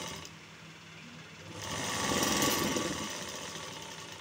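A sewing machine stitching the back lining of a blouse, with a steady motor whir that builds and rises in loudness midway and stays close and continuous, with no talk.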